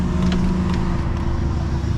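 A Nissan Sentra Nismo rolls along a street, its engine and road noise forming a loud, steady low rumble close by for about two seconds, with no talking over it.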